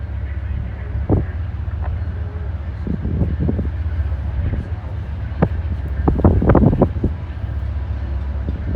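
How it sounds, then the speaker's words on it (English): Gusty wind buffets an outdoor microphone near railroad tracks, producing low rumbling and irregular thumps and pops, with a train's rumble faintly underneath. "Man, it's getting windy again."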